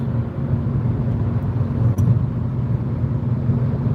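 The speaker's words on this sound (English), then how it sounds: "These are all cars." Cars passing on a fast road, a steady low rumble of traffic with no gaps and a brief swell near the middle, fairly close and continuous.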